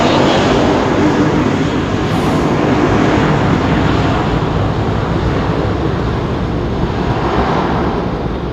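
A DHL jet at Heathrow airport roars steadily and loudly throughout, a broad continuous engine rumble with no voices.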